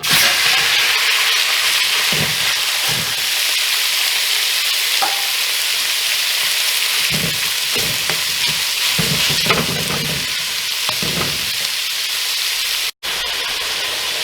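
Ground beef sizzles and fries steadily in a hot pan, being browned in its own fat for a Jamaican-style curry, with continuous loud hiss and occasional scraping stirs.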